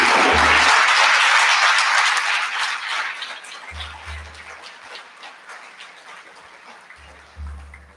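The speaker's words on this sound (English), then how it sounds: "Another big round of applause for the beautiful performance." An audience claps after a dance piece at a family Bharatanatyam arangetram. A loud wash of applause fades over several seconds, with deep low thumps recurring beneath it.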